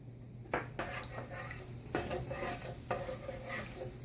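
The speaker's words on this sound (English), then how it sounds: "I have already a pan heated up with the oil. So in my pan goes mustard seeds. Here goes cumin." Mustard seeds and cumin hit hot oil in a pan, giving a faint, steady sizzle broken by a few sharp pops and crackles of the seeds.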